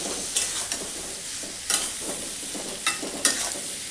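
Ash gourd with chili powder being stirred in a hot pan: a steady sizzling hiss with several distinct scraping strokes of the spoon at irregular intervals, close and moderately loud, no voices.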